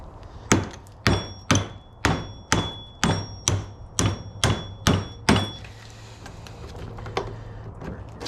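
A hammer strikes a metal ballast held in a vise, about ten sharp ringing whacks at a steady rhythm, close and loud, followed by a few fainter taps.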